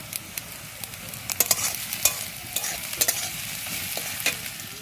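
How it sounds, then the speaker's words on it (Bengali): Onions fry in oil in a pan while being stirred, a steady close sizzle broken by scraping, clacking strokes of the spoon, with no talking. "চলো ভালো করে পেঁয়াজটা ভেজে নিই।"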